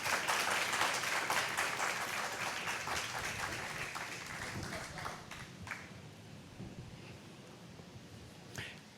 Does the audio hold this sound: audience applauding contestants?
yes